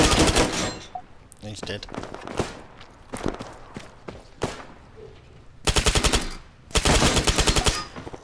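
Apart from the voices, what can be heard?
HK MP7 submachine gun firing in video game ARMA 3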